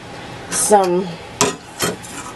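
A spoon scrapes and knocks against a bowl while tamale masa mixture is stirred. A few sharp clinks come through, a voice speaks briefly, and the sound is close by.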